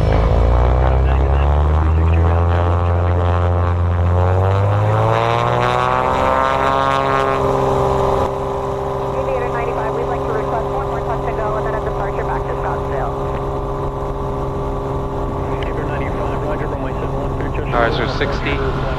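Small propeller aircraft accelerating down the runway for takeoff, a loud steady engine drone whose pitch climbs as power builds, continuing strongly throughout while pilots speak over the radio and in the cockpit.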